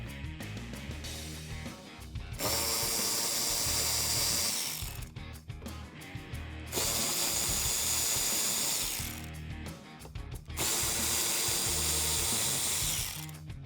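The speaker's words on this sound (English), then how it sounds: "Now I can take my Phillips head screwdriver and remove the 3 Phillips head screws on the inside of the wheel well liner" Three sustained bursts of a close, loud driver ratcheting out the Phillips head screws on the inside of a 2005-2009 Mustang GT wheel well liner, with short pauses between them.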